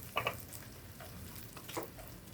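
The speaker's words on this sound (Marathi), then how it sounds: "मंद आचेवरती आपल्याला तो खोवलेला नारळ आधी थोडासा गुलाबीसर भाजून घ्यायचा" Grated coconut roasts gently in a pan over low heat, giving a faint, soft sizzle with a few light scraping stirs.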